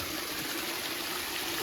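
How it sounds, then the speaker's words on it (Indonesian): Rainwater rushes and gurgles down a stepped mountain trail on Mount Lawu at night during heavy rain, a constant close wash of flowing water with no voices. "Air mengalir."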